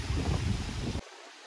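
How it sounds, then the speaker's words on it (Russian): Strong, gusty wind buffets the microphone at a beach resort in Hurghada, Egypt, a loud broadband roar for about a second before it cuts off abruptly, leaving a faint hiss. "Вот такой страшнючий ветер порывами."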